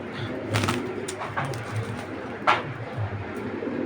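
Pigeons coo in a low, repeated murmur at close range, with a couple of sharper wing or perch noises standing out, and no speech over it.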